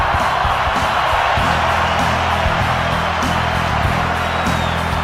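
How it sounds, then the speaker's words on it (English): A cricket stadium crowd cheering during an Australia versus South Africa one-day international: a loud, continuous roar of massed voices with whoops rising above it, while a commentator's voice talks over the din. "Listen to the crowd."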